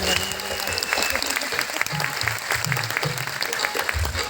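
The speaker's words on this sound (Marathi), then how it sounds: "स्वतःसाठी एकदा जोरदार टाळ्या." An audience at a Lavani dance show claps loudly and continuously at close range, while a voice talks over the dense applause.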